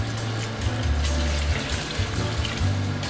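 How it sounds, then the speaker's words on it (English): Beef broth poured into a pot of braising short ribs, a continuous close splashing and gurgling stream of liquid without talk. "And a little beef broth."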